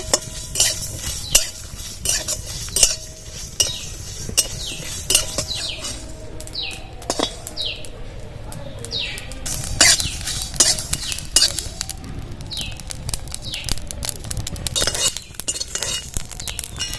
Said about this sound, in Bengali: এবার কড়ার মধ্যে দিয়ে দেবো কাঠকুলায় ভেজে নেব